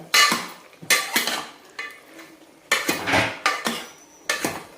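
A spoon scraping and clanking against a pot while mutton curry is turned over, several distinct metallic strokes in irregular bursts, close and fairly loud.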